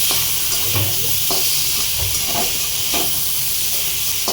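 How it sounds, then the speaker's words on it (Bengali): Chicken with garlic sautés in a pan with a loud, constant hiss and sizzle, while a spatula stirs it with regular scraping strokes about every half second. No speech. "এবার এটা কষানো হবে আর কিছুই করব না এটা ধীরে ধীরে কষানো হবে"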